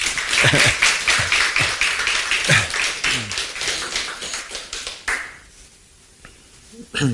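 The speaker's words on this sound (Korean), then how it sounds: "우리 환영의 박수 하겠습니다." A church congregation claps in welcome during a Sunday worship service, a dense patter of many hands lasting about five seconds before tapering off into near quiet, with a few faint scattered claps at the end.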